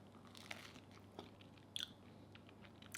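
Reduced-fat grocery store garlic bread, soft and somewhat dry, bitten and chewed close up, giving a few faint, muffled crunchy clicks over a quiet background with no talking.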